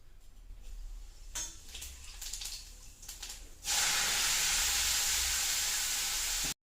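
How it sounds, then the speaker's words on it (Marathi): Utensils clink and scrape, then finely chopped spring onion greens hit hot oil for tempering, bursting into a sudden loud sizzle that stays strong and steady until the end. "कांद्याची पात मस्त अशी बारीक चिरून घेतली आणि आता फोडणी द्यायला घेते"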